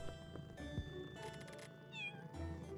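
A cat meows in the video game Pocket Mirror, two drawn-out, close, clear meows, the second with a rising-falling wail, over soft game background music with no talking.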